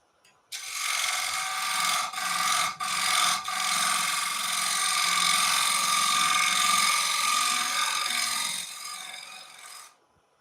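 A skew chisel scrapes a radius on a textured wooden bowl spinning on a lathe, a bright, rasping hiss that starts abruptly, holds steady with a few brief breaks, then stops near the end.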